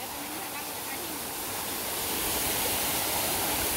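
Water poured from a clay jug over chickens being washed, a steady splashing gush that grows louder and fuller toward the end, with a faint voice in the background.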